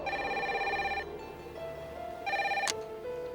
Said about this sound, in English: Jeff used his cell phone to call home.